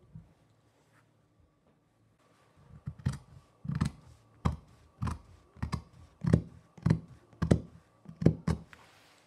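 Scissors make a series of about ten crisp, evenly spaced snips as they cut along a line through jacket fabric. The cuts are close and fairly quiet, with a short hush before them.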